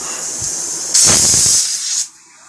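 A pressure cooker of dal lets off a loud burst of hissing steam that lasts about a second before cutting off, leaving a faint background hum.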